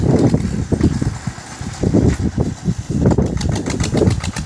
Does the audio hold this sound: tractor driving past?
yes